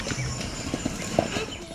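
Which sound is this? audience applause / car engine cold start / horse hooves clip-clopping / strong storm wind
horse hooves clip-clopping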